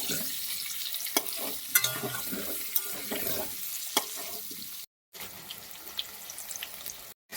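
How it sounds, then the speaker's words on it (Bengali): Potato pieces frying in oil for a mutton curry, a continuous sizzle broken by sharp stirring scrapes and clinks, with two short silent gaps near the end. "আলুগুলো এখন ভালোভাবে ভেজে নেব"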